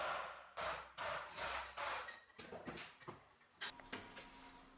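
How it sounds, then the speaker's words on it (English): Metal hammer blows on a punch driving a U-joint pin out of a Toyota truck driveshaft held in a vise, a series of sharp close impacts at an uneven pace, some quicker and lighter taps mixed in. "hammer the inner pin back to the middle point until the other outer pin begins to slide out"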